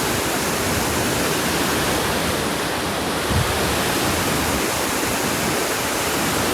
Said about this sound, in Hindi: पानी चेक करें भाई साहब कितना तेज जा रहा है।